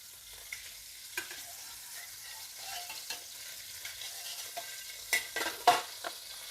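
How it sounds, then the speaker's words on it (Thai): Shrimp being stir-fried in a pan for a mixed glass noodle dish, with a soft steady sizzle and scattered light scrapes and taps of a utensil, fairly quiet and without talk. "เราก็ลวนให้กุ้งสุกสักนิดหนึ่งนะคะ ไม่ต้องเยอะ"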